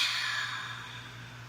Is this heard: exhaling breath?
yes